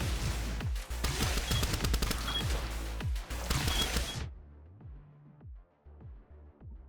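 Shotgun fire in a fast-paced shooter video game: dense, loud volleys of gunfire for about four seconds, then a sudden drop to quieter scattered game sounds.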